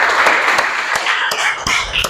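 A class of students clapping in unison in a 2-1-3 rhythmic pattern, sharp bursts of many hands close by, repeated in quick groups.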